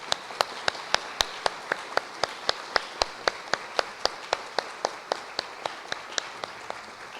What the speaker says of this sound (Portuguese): Queria uma salva de palmas